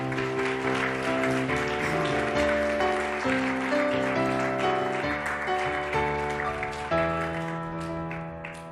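A church congregation applauds during a service, a steady wash of many hands clapping beneath sustained keyboard chords that keep playing throughout.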